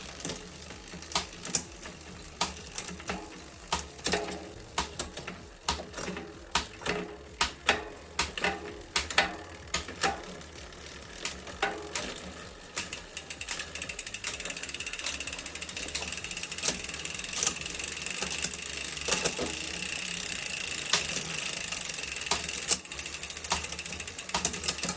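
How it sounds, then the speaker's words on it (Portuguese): A bicycle rear derailleur clicks through gear shifts during adjustment: a run of sharp, irregular ratcheting clicks close up, then a steadier whirring of the spinning drivetrain with occasional clicks over it. "vou soltar mais um cliquezinho aqui e vou fazer um teste"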